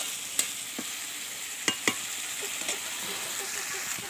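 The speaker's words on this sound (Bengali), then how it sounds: "ভালো করে কষিয়ে নেব।" New potatoes for aloo dum stir and fry in a pan with a steady close sizzle, broken by a few sharp spoon scrapes and clicks against the pot.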